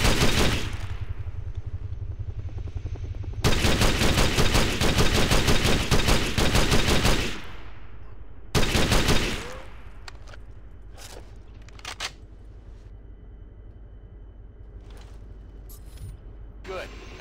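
Ghost Recon Advanced Warfighter rifle fire comes in two loud sustained automatic bursts, followed by sharp mechanical reloading clicks and clacks in quieter stretches.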